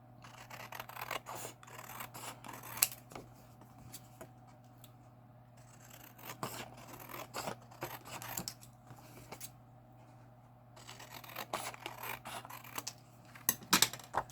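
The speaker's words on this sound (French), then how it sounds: "je vais couper un peu à l'intérieur de ma ligne tracée" Hand cutting of pink cardboard along a traced pencil line, probably with scissors: soft, intermittent snips and rubbing scrapes in short bursts, quiet and close, with no talking.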